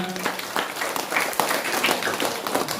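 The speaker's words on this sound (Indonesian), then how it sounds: "tepuk tangan" A crowd at an Isra Mi'raj tabligh akbar religious gathering in Raya Kahean, Simalungun, claps in a steady, moderate patter for about three seconds, with voices faintly mixed in.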